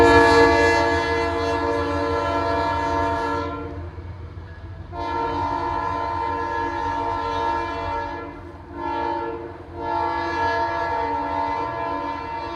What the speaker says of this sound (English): a video of Metro North 1874 headed up to Danbury